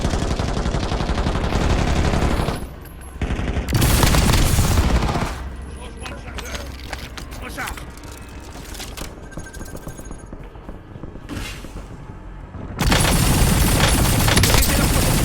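Rapid bursts of automatic gunfire from a Warzone battle royale match, loud and dense at the start and end with quieter scattered shots and game effects in between, under a game voice.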